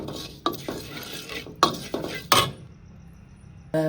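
Poppy seeds are dry-roasted and stirred lightly in a pan, giving a few quick metal scraping strokes up close, then a quiet stretch before a short electronic tone.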